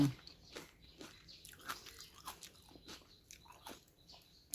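Raw vegetables, including Chinese watercress, dipped in a chili paste of salted fish are bitten and chewed close up, giving a run of soft, repeated crunches at an irregular rhythm, fairly quiet and with no talking.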